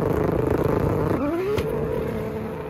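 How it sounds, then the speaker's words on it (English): A 1500whp 2JZ engine chatters rapidly against its rev limiter, a loud pulsing burble close by, then the revs sweep down and the note fades toward the end. "Bouncing off the rev limiter."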